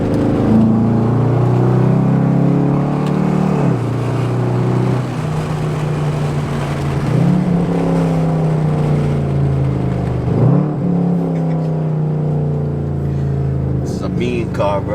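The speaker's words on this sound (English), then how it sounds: "Let me give it the beans real quick." A 2010 Chevrolet Camaro SS with 100,000 miles accelerates hard, its engine droning and climbing in pitch through several gear changes, heard from inside the cabin with people talking over it.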